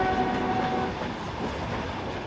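A Ukrainian evacuation train runs steadily on its rails, a continuous dense rumble and clatter of wagons heard up close with no break and no voices.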